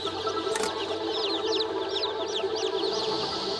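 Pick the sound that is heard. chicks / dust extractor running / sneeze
chicks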